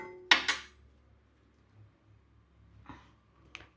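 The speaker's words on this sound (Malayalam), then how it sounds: "ചട്ടി അടുപ്പിൽ വയ്ക്കാം." A cooking pan set onto a lit stove in a Kerala kitchen, while prawn pickle is being made, gives two quick, close metallic clanks in a row, followed by a soft scrape and a faint light clink, with no talking.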